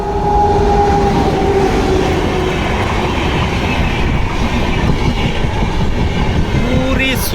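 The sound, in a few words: train passing at high speed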